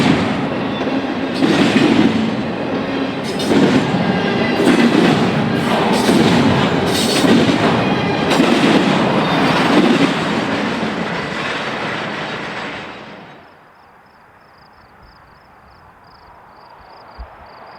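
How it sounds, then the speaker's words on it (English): An eastbound CSX intermodal stack train rumbles past below, its wheels clattering loudly and steadily for about thirteen seconds before the noise suddenly drops away to quiet outdoor ambience. "The train is being passed below by eastbound stack train I-104 on the CSX"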